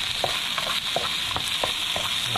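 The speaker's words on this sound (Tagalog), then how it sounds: "kaya igisa na rin po natin yan" Food sautéing in a pan, a steady hissing sizzle with a regular series of soft stirring knocks, close and without any talking.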